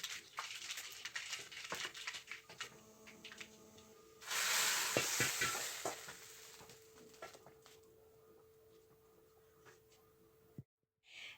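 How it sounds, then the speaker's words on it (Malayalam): Prepared tempering poured into an Onam-special cucumber and buttermilk curry gives a sudden loud sizzling hiss that swells for about two seconds, then fades into a softer simmer amid light kitchen clatter. "അപ്പോൾ നമ്മൾ താളിച്ച് വെച്ചിരിക്കുന്നത് കൂടി കറിയിലേക്ക് ഒഴിച്ചു കൊടുക്കാം."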